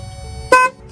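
A Ford F250 truck horn, wired straight to 12 volts, gives one short, loud, close blast of about a fifth of a second, with a faint steady hum before it.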